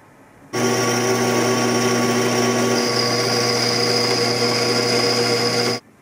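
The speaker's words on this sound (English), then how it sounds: "put it into the drill press and drill through the rest of the pieces" A steady, high-pitched motorized whine runs for about five seconds with constant tone, starting and stopping abruptly, as a drill press drills through mild steel.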